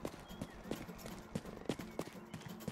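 Horse hooves clip-clop in the Western video game Rustler, a steady rhythmic walking beat of hoof strikes at moderate volume, with faint talk underneath.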